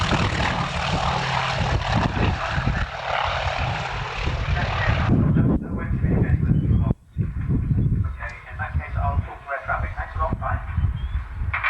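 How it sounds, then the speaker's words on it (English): A Trojan propeller aircraft at an airshow in Newtownards, its engine droning loud and steady as it holds short, with an announcer talking over it throughout. "the boss man now from ARC is just holding short in the Trojan, and he'll shortly be getting airborne to display this aircraft"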